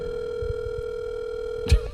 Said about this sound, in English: Oh, it's still ringing.